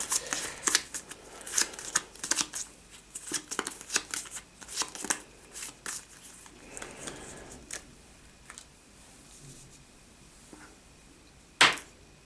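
A deck of cards for the DungeonQuest board game is shuffled by hand, a run of quick riffling and slapping bursts that thins out into a few taps and one sharp snap near the end.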